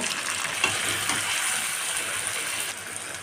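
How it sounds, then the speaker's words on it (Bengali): Steady, dense sizzling of chicken frying in a hot pan until browned, continuous and close, with a faint scrape or stir near the start. "মাংসটাকে লাল করে ভেজে নেব"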